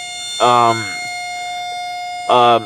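A Whelen civil defense siren sounds in two short bursts with a pause between, while a steady high whine continues underneath.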